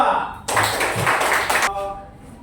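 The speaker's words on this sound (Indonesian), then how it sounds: "Tepuk tangan untuk kelompok 2." A short burst of group applause from a classroom of teacher trainees breaks out for about a second, with a person talking before and after it.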